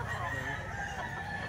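A rooster crows continuously and fairly close, a sustained loud call over background noise at a cockfighting bird sale.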